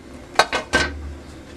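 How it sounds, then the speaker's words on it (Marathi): A freshly cooked Maharashtrian puran poli, glossy with ghee, is lifted off the tava onto a plate. Three quick, close clinks of plate and utensil ring out in a short burst, then quiet. "मी एका प्लेटवर काढून घेते."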